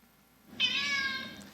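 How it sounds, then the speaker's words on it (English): A domestic cat gives a single clear, drawn-out meow lasting under a second, close and alone against faint room tone. "like this cat vocalization"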